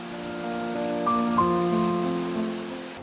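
Steady rain patters through the whole stretch, with sustained tonal hums and whines layered over the wash of falling water.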